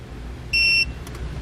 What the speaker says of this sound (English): press and hold the set button until it beeps